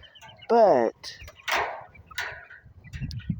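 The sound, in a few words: chickens clucking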